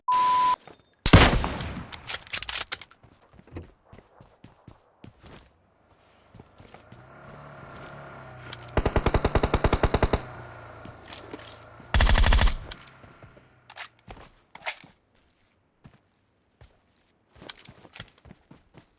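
Gunfire in the mobile battle-royale game PUBG Mobile: loud rapid automatic bursts open the sequence, followed by scattered shots and footsteps, then more sustained volleys of firing and a final sharp burst, with a few electronic beeps.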